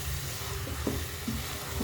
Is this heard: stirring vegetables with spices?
yes